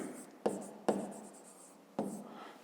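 Pen strokes scratching across notebook paper during a fifth-grade maths exercise, three sharp onsets each followed by a continuous scraping trail, close and fairly quiet with no talking.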